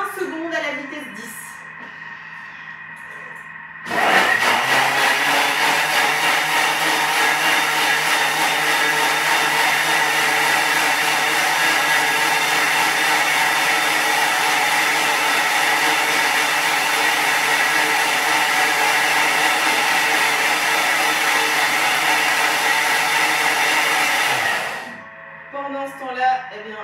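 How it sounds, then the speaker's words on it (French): A Thermomix runs at speed 10 blending a smoothie, a loud, steady high-pitched whir that holds for about twenty seconds before cutting off, with brief talk at either end. "on va venir mixer 20 secondes à la vitesse 10"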